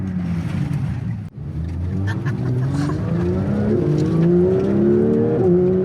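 A Porsche 911 GT3 Touring engine revs toward 9,000 RPM, climbing steadily through the gears, loud and close, with a brief dip before the rising drone returns.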